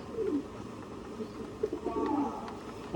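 Soft, low cooing of pigeons repeats in short bursts against a quiet background hiss, fairly close and gentle.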